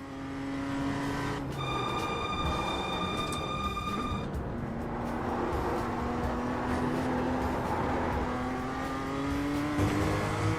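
A race car engine in a racing video game drones steadily and loud, with pitch rising through the gears and brief shifts along the way. It runs continuously with no speech over it.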